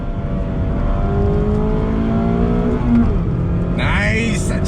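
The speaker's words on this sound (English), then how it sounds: "Just the sound of that naturally aspirated engine. Great intake sound." A loud naturally aspirated 2020 Mazda MX-5 Miata Club engine roars continuously on a track, pitch climbing through gear changes, with a sharp rising intake whine near the end.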